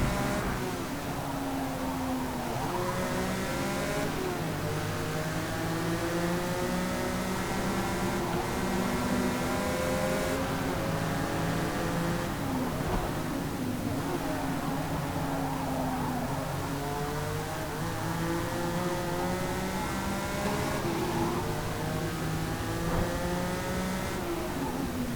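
Quad-turbo Bugatti racing in Forza Motorsport, engine droning loud and continuous as it climbs through gears in repeated rising sweeps, with no voices.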